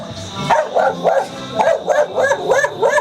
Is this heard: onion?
no